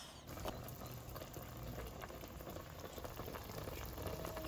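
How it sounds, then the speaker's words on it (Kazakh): Water for Uzbek pilaf boiling in a pot, a steady dense bubbling and fizzing that runs evenly throughout, fairly close and alone without any voices. "Сосын үстіне суды құйып, біз оны бұқтырып қайнатып қоямыз."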